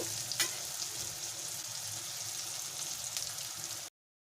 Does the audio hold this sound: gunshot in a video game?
no